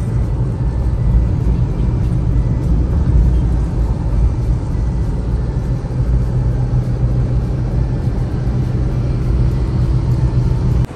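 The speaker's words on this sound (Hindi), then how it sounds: "रिदम में गाड़ी चलती है।" A car drives steadily along an open road, a continuous low rumble of engine and tyre noise heard from inside the vehicle with no talking.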